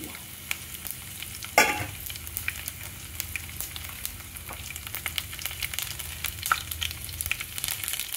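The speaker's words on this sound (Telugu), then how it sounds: "తిరుమత వేగిపోయిందండి" Tempering spices with dried red chilies, garlic and curry leaves fry in oil for a drumstick curry, giving a soft, continuous sizzle with light crackles and an occasional stirring clatter.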